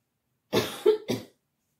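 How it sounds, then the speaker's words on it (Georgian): A short burst of coughing, two or three harsh coughs in quick succession, close and fairly loud with no talking around them. "ეს ხველება გიყვარდეს,"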